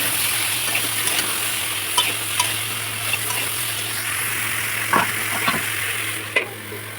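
Vegetables with cumin and coriander powder fry in a pan, a steady close sizzle broken by occasional scrapes and stirring knocks, with no talking.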